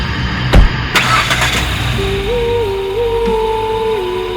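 A car starts with a couple of sharp clicks and a brief crank, then the engine settles into a steady, close idle hum that continues to the end.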